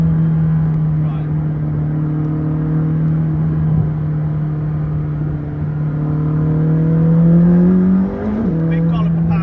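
A McLaren 600LT accelerating in sport mode with firmed-up dampers and an aggressive gearbox: a loud, steady engine drone heard from inside the car that climbs in pitch, then drops briefly at a gear change.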